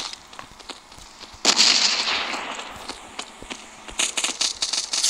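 A grenade detonates in the shooter game Modern Ops, a sudden loud burst followed by a rattling, crackling decay, with more sharp pops and gunfire-like cracks near the end.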